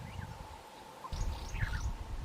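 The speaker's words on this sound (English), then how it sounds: "These joyful, happy birds are called white-crested helmet shrikes, and they always go around in these little groups" White-crested helmet shrikes calling as a small group, brief chattering phrases rising and falling over a low background rumble, moderately close.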